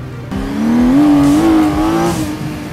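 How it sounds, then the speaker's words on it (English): A 1978 Honda CBX six-cylinder motorcycle engine revs up loud and close, its pitch climbing and holding in a steady howl before easing slightly, heard alone with no talking. "what really had people's hearts was the amazing sound that those six cylinders generated"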